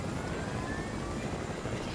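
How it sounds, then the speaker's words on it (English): A helicopter in a team-based battle video game hovers nearby, giving a faint, steady engine and rotor hum with no other clear sounds. "Alright, stay right there, helicopter."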